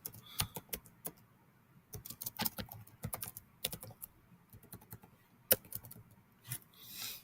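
Crisp clicks of typing on a computer keyboard, irregular bursts of keystrokes close to the microphone in an otherwise quiet room.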